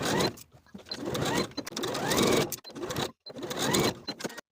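A sewing machine or serger runs along the shoulder seams of a knit sweater at a 3/8 inch allowance in several close bursts separated by short pauses.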